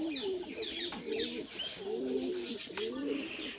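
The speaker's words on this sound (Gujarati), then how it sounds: "અહીં કબૂતર સણે છે" Pigeons in a loft give repeated throaty cooing calls close by, mixed with brief chirps and a constant background hiss.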